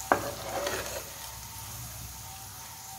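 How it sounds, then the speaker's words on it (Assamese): Chicken pieces frying in a pan for chicken fried rice: a sharp sizzle with stirring scrapes dominates the first second, then eases into a steady, quieter frying hiss. "চিকেনখিনি আমি আগতীয়াকৈ ভাজি ল'ম"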